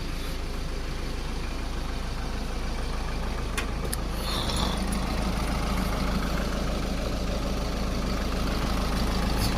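A Force Toofan diesel engine idles steadily at close range, a continuous low rumble with a brief metallic tick partway through and no talk.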